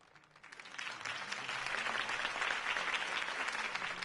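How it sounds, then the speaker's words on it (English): An audience breaks into applause that swells quickly and holds as steady, dense clapping from a sizable crowd. "could have heard that applause"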